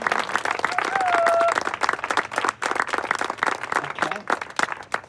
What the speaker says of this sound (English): give a big round of applause and a big thank you to Dr. Turpin and Dr. Bache